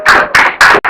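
Students clap together in a classroom, several short dense bursts of hand claps close by, stopping and restarting within about a second.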